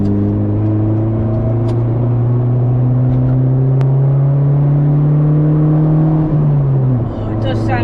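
A modified Honda with a loud aftermarket exhaust accelerates hard along a slip road, its engine drone climbing steadily in pitch for several seconds before easing off, heard loud and close from inside the car.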